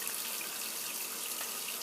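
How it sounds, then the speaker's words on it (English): Water runs from a tap and is splashed onto a face before a shave, a steady close hiss of flowing, splashing water with no voices. "I'm just going to add a little water to my face"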